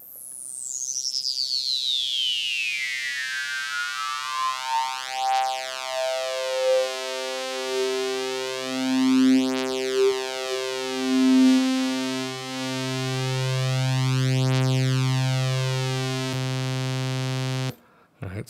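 A modular synth runs a high-pass filter set to high resonance, opening with a loud whistling sweep that falls steadily, then a stepped sequence of bright resonant tones and pulsing low notes repeating for most of the stretch before cutting off abruptly.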